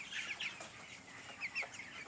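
Chickens cluck on a raised poultry platform: two short bursts of close, moderately loud clucking over a steady background hiss, with no voices.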